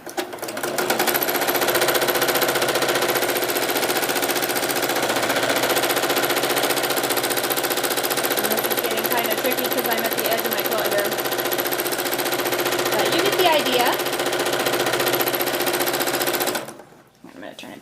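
A sewing machine stitches steadily during free motion quilting on fabric, a continuous close, loud mechanical whir and rapid needle clatter that runs without a break and then stops abruptly near the end.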